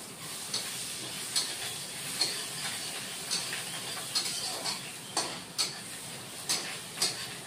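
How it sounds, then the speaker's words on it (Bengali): Chopped onions frying in a pan for Bengali katla fish kalia, with cardamom already in, give a soft steady sizzle broken by sharp clicks of a utensil stirring against the pan. "তারপরে কুচানো পেঁয়াজ দিয়ে দিচ্ছি।"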